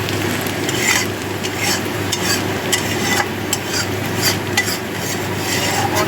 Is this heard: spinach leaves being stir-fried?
yes